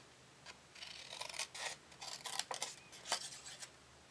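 Scissors snip through paper in a quick run of crisp cuts, close and fairly quiet, with no talking.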